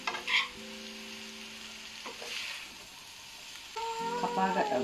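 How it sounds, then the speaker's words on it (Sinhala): Chicken being stir-fried in a pan for chow mein makes a soft sizzle with stirring and scraping, fairly quiet, while tonal humming sounds rise and fall over it. "දැන් මම හදාගත්තු චිකන් ටික එකතු කරනවා. එකෙන් එක එකතු කර කලවම් කරන්න."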